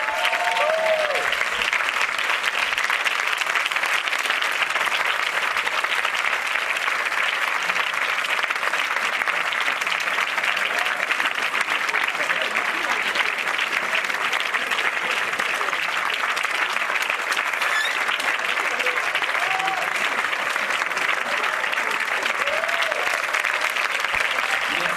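A theatre audience applauds actress Christina Lindberg at a film screening, a steady and dense wash of clapping that holds for the whole stretch, with faint cheers now and then.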